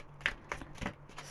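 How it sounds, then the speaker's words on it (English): Tarot cards being shuffled, a few quiet riffling bursts spaced apart in a soft, close, otherwise quiet setting. "I'm going to do 3 shuffles on this one"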